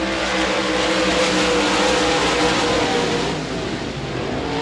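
Modified race cars roar around Devils Bowl Speedway in a dense, loud pack, engines droning and rising together without a break as the field battles side by side through the turns.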